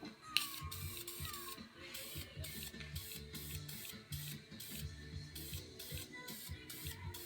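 Heat paint hisses from a spray can onto a handmade metal rose in repeated short bursts, fairly faint and close, with some low mechanical clatter underneath.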